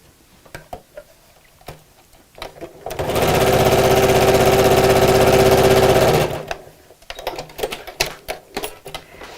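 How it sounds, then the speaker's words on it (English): A sewing machine stitches across the lining of a recycled denim scrappy bag, a steady loud mechanical run of about four seconds, with softer handling clicks and taps before and after. "simply pull the 2 edges of the lining together and sew across"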